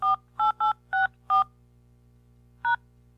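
Telephone keypad tones beep six times, five quick presses in a row and then a single one after a pause, each a clean dual-pitched tone over a low steady hum.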